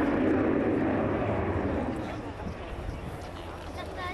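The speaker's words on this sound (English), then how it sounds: "those vectored thrust nozzles will be moved from the horizontal slowly down to the vertical. It's going to get terribly noisy." Loud broadband roar of an RAF Harrier GR7A/9 jet engine as its thrust nozzles vector from horizontal toward vertical at an air show, a steady close rumble that eases slightly midway, with a voice talking over it.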